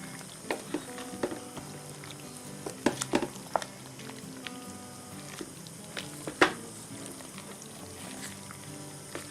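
Irish venison stew being stirred in a pot, with quiet bubbling and simmering under scattered clinks and scrapes of the spoon against the pot.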